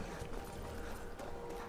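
Horse hooves in the Skyrim video game, a quiet, steady clip-clop of hoofbeats at a walking pace over a faint background.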